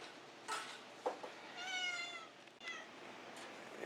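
Cats in an animal shelter meow, a few drawn-out cries and shorter mews spread across several seconds, moderately faint against room noise.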